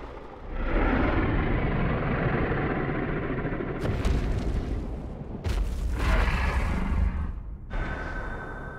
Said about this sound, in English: And bubble explosion.